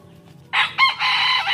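A large five-month-old rooster crows loudly and close by, a single drawn-out call after a brief quiet start, breaking into a stuttering middle before holding steady to the end.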